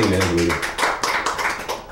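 Audience applause at a live guitar show in a music store, a dense burst of clapping from a crowd. A low sustained tone fades under it at the start.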